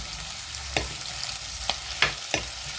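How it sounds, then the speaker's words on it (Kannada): Onions fry in a pan with a soft, even sizzle, punctuated by a few sharp scraping knocks of a spoon against the pan; no talking. "ನೀರುಳ್ಳಿ ಪೂರ ಒಂಚೂರು ಫ್ರೈ ಆವಡತೆ ಒಂತ ಬ್ರೌನ್ ಬರ್ತದೆ"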